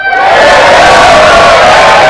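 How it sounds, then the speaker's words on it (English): A staged burst of crowd cheering and applause, loud and continuous, with whoops and shouts over a dense roar that starts abruptly and holds steady for about two seconds. "let's give them an applause"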